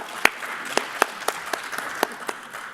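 Sparse audience clapping at a Korean political forum in Washington, D.C., a handful of distinct hand claps spaced roughly every quarter second over a faint room murmur, moderately quiet.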